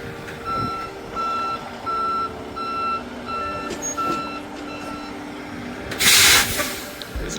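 Truck reversing during a road test backing manoeuvre, its backup alarm beeping in an even repeated rhythm over engine rumble, ending with a sharp loud air-brake hiss.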